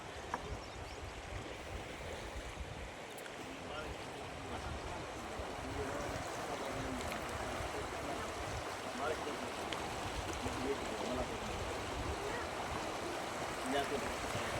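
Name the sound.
Indus River water flowing beneath a boat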